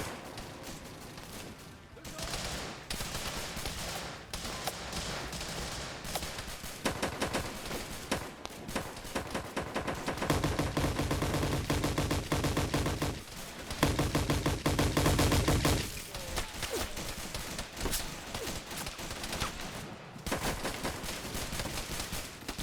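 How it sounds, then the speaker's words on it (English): Automatic grease gun fire in a Vietnam War video game, dense bursts and sustained rattling volleys mixed with other gunfire, loud and continuous through most of the stretch. "Is that a grease gun?"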